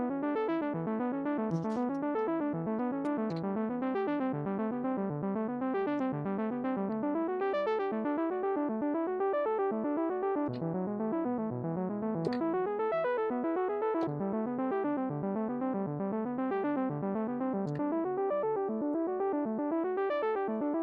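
A Moog synthesizer's sequencer cycles through a repeating 14-step pattern in an odd 7/8 meter, bright plucky synth notes bouncing in a steady, continuous loop with no voices.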